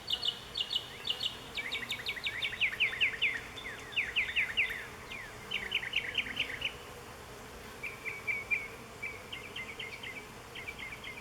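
Honeybees buzz in an opened hive as they grow agitated, a steady hum beneath bright, repeated bird chirps and trills that come in quick clusters.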